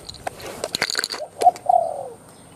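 Outdoors at a trap site, a spotted dove gives a short series of soft cooing notes, near and fairly clear, after a burst of clicks and rustling handling noises.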